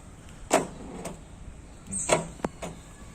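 Several short mechanical clicks and a brief grinding creak from the faulty trunk lock of a 2019 Renault Duster, spaced irregularly with quiet gaps between.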